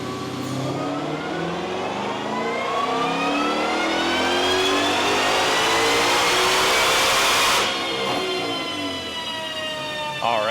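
A 2021 Ford Shelby GT500 MM850 with long tube headers revving hard on a dyno, the engine note climbing steadily for several seconds to a loud peak, then cutting off and falling away.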